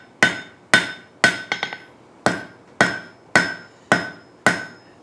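Hot iron is forged on an anvil to draw a taper on a pintle hinge: about ten sharp, ringing hammer blows at a steady pace, one with quick rebound taps, each decaying quickly, with no talk.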